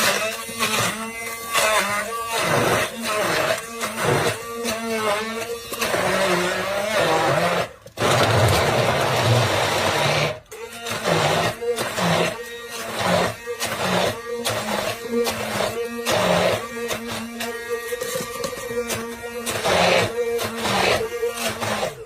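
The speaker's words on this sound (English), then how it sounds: "Now you can do that in a food processor or a blender, or with the wand, which I did" Immersion blender wand whirring through a Cambodian krung curry paste of kaffir lime leaves for fish amok, buzzing in loud pulsing bursts with short pauses, then a sustained run near the middle, close up and without talk.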